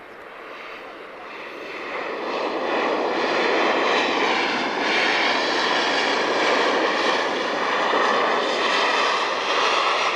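A Transavia France Boeing 737-800 arriving from Nantes lands at Lisbon Airport, its jet engine roar swelling over the first seconds into a loud, steady, broad rumble that holds to the end.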